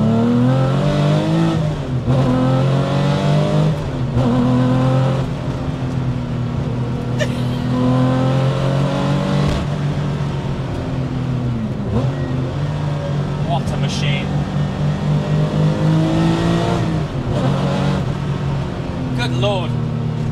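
A Gunther Werks restomod Porsche 993 911 engine revs and accelerates hard through several rising surges, loud and close, with brief shifts between pulls and a voice talking over it.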